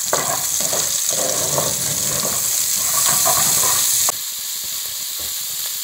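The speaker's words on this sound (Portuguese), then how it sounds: "Agora a gente vai colocar a cebola. Vamos dar uma leve dourada na cebola, tá?" Onion sizzling in a pan of fried calabresa sausage, a steady loud frying hiss with stirring scrapes, the crackle dropping off abruptly toward the end.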